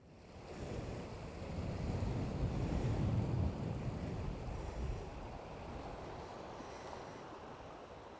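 Surf on a beach along the North Channel in Scotland, a soft continuous wash of waves mixed with wind rumble on the microphone, swelling then easing.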